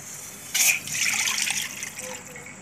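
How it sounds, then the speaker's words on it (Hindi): Milk is poured into a pan on a stove for kheer, starting with a brief splash and then settling into a soft, steady gushing pour that fades after about two seconds. "फ्लेम ऑन कर दिया हम इस पर दूध डालेंगे"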